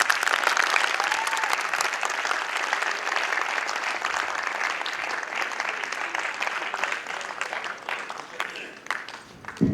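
Audience applause filling a seminar hall, dense steady clapping from a large crowd lasting nearly ten seconds without letting up.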